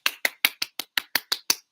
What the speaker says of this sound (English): Now, everybody should clap fast.